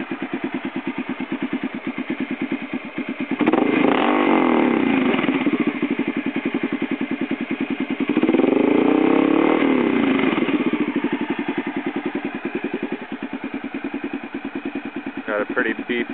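A Honda XR650L motorcycle with an old Supertrapp IDS muffler idles with a deep, pulsing thump close by, revving up twice in long swells before settling back to a steady idle.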